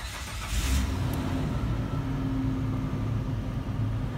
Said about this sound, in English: I'm going to turn on the car now